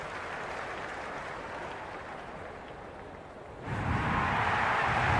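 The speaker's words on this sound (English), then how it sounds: "already the crowd making a hell of a racket" Crowd noise fills a stadium at a Big Bash T20 cricket match, Hobart Hurricanes against Melbourne Stars, a dense roar of cheering and clapping that swells louder partway through.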